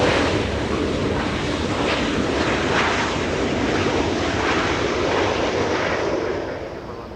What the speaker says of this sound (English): Let's go to Southwest as it makes a touchdown on 24 right.